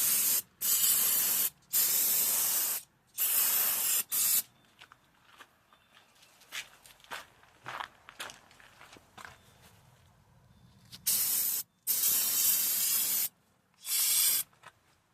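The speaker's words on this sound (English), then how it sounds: "now I'm going to clean with the brake cleaner" Brake cleaner sprayed onto the brakes of a Subaru Forester in a series of loud, close hissing bursts, three at the start and three more near the end, with quieter clicks and handling noises in between.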